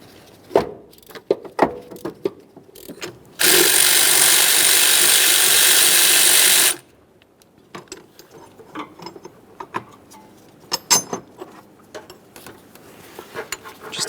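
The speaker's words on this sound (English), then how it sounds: "For this bolt, we'll be using a 17 millimeter to remove this." A ratchet loosening a 17 millimeter bolt on an Acura MDX, with sharp, irregular clicks close by and a loud, steady burst of noise lasting about three seconds in the middle.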